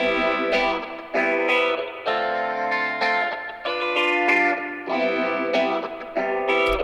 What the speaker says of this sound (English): the second phaser guitar